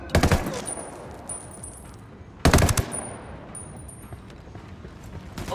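Automatic gunfire in Ghost Recon Wildlands: two loud, sharp machine-gun bursts about two seconds apart, each followed by fading echoes and faint tonal game sounds.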